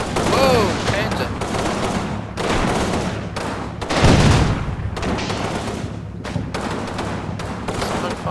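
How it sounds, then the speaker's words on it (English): Panzerschreck rocket launch amid gunfire in the WWII video game Combat Mission Normandy, with bursts of rifle and machine-gun fire in the bocage and a loud boom near the middle, under a voice talking. "Someone fired a Panzershrek at me."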